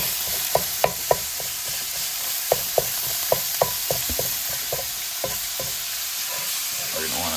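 Pork and onions stir-frying in a pan for a saucy pork and cabbage stir fry, a steady close sizzle broken by sharp scraping clicks of a utensil breaking up the meat, irregular at first and thinning toward the end.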